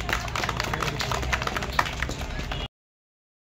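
Audience clapping at a Kali Puja cultural programme, a dense, fairly loud patter of many hands from a crowd that carries on for a couple of seconds and then cuts off abruptly.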